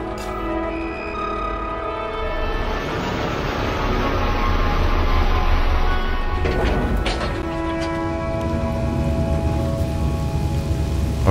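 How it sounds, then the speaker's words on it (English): Steady rain drums on a spaceship's hull during a stormy planet visit in the video game No Man's Sky, a dense continuous patter that swells midway, with a low rumble beneath and no talking. "You hear the rain hitting the spaceship."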